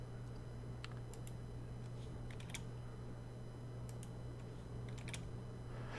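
Light keystrokes on a computer keyboard come in short bursts of quick, faint clicks separated by pauses, over a quiet steady hum.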